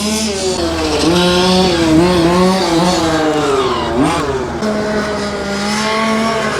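A radio-controlled car's electric drivetrain accelerates hard on a track, its rising whine sweeping upward in pitch, dipping briefly and climbing again, loud and close with no talking.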